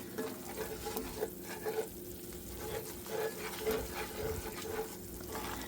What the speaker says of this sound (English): I'm going to mix it right in with my flour and all the fond and the grease that I had left over from sausage this morning.